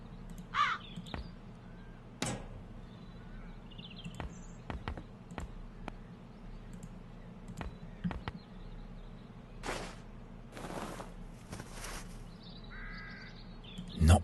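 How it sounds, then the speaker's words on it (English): Crows caw in the adventure game The Dark Eye: Chains of Satinav, scattered harsh calls with intermittent thuds and clicks over a quiet ambient background. "The crows fly into the net."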